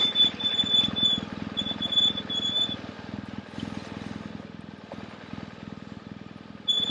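A dirt bike engine drones steadily and close as the bike rides off-road over rough, bushwhacking terrain, with loose rattles over the sustained motor sound.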